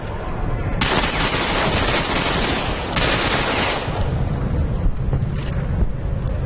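Sustained automatic gunfire from the shooter game Ghost Recon Phantoms, a dense, loud roar of rapid shots that surges in bursts and keeps going with hardly a gap.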